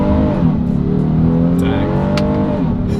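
A 2026 Honda Odyssey minivan accelerates hard from a launch in first gear, its engine a loud, steady, rising drone heard up close from inside throughout.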